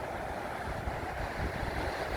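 Sea waves wash steadily onto a Moroccan beach on a cold Ramadan day, a continuous broadband surf roar with wind buffeting the microphone, close and fairly loud, with no talking.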